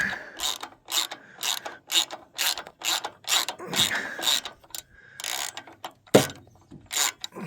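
A ratchet wrench loosens parts on a 1991 Noma 12/39 riding lawnmower in repeated bursts of rapid, close metallic clicking, separated by brief pauses, with no voices.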